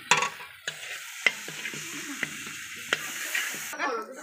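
Greens are stirred in a large wok, with a low sizzle and repeated sharp clacks of the spatula against the metal at an irregular pace, close by.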